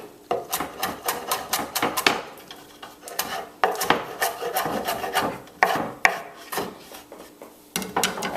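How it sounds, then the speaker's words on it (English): Knife chopping mango and vegetables on a wooden cutting board, a fast run of sharp, close knocks in bursts with brief pauses between them. "Give that a rough chop as well."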